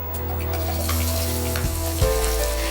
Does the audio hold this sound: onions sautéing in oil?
yes